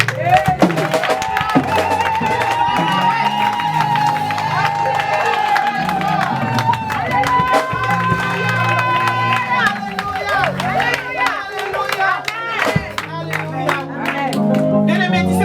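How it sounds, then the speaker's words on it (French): A crowd at a church conference cheers and claps loudly and steadily, mixed with music and excited voices throughout. "Les Abigail acclament leur Dieu."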